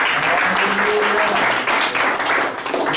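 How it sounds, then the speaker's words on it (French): A church congregation applauds at the end of a French prayer service, a dense, steady wash of many hands clapping that fills the whole moment at close range. "Acclamation pour vous."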